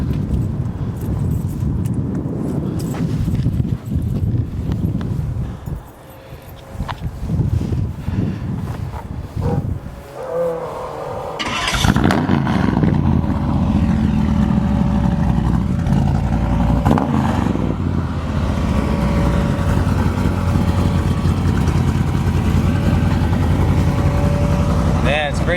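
A 1960 Chevrolet Bel Air with a 406 engine cranks and catches about midway, then settles into a steady, loud, rumbling idle close by, after some earlier wind and background noise.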